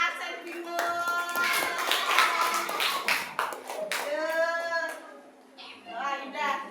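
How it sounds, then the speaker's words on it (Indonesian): Children clapping together in a classroom, a burst of quick claps mixed with a teacher's voice and kids' chatter, fairly close and moderately loud. "Tepuk tangan untuk Aksen bingung."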